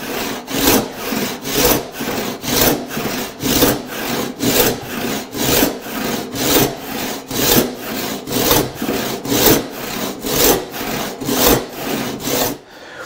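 A hand saw cuts through a wooden board in a steady back-and-forth rhythm of about twenty rasping strokes, close and clear with no talking.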